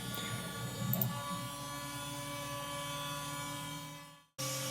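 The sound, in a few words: CNC machine cutting a guitar neck contour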